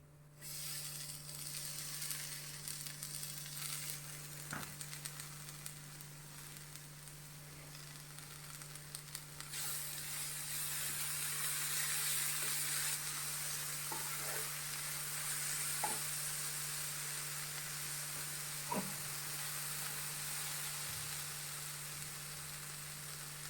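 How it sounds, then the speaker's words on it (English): Tomatoes fry in masala in a pan for bhindi masala over a very low flame, giving a steady, soft sizzle and hiss with a few faint clicks of stirring, close by with no talk. "Now I will add tomatoes to this."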